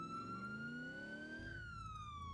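Police car siren in the video game PERP, a steady wailing tone that rises slowly and then falls, loud and continuous with a low engine rumble beneath it.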